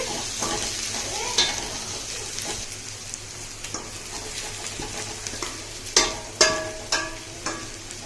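Black pepper powder fries in a pan under a steady sizzle while a utensil stirs and scrapes, with a few sharper clinks against the pan toward the end, close-up and with no talk.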